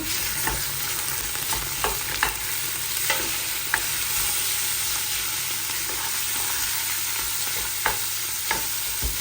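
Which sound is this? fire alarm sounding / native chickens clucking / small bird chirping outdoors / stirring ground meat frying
stirring ground meat frying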